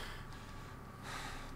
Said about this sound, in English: Stop panting! It's really annoying.